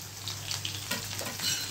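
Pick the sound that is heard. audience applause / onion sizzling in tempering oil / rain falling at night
onion sizzling in tempering oil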